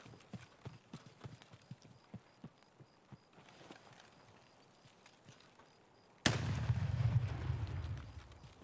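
A single sharp, loud gunshot cracks in the Escape from Tarkov shooter, preceded by soft footstep-like taps, then followed by a sustained low rumbling boom and echo.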